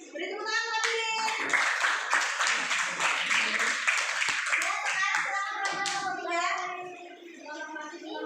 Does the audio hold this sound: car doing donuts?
no